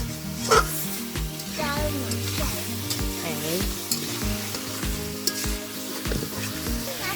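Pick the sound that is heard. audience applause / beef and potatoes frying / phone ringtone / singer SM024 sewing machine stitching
beef and potatoes frying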